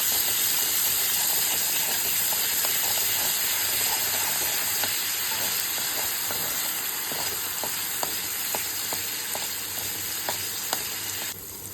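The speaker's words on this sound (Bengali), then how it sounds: "এটা আদা রসুন বাটাটাকে ভালো করে নাড়িয়ে চাড়িয়ে নেব।" Ginger garlic paste sizzles in prawn oil, a steady loud hissing fry with repeated scraping and clinking as it is stirred around the pan, heard alone without talk.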